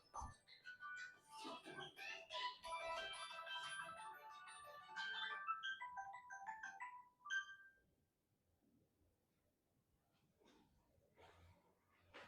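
A mobile phone rings with an incoming call, a melodic ringtone repeating for several seconds and then stopping, followed by faint breathing and quiet room noise.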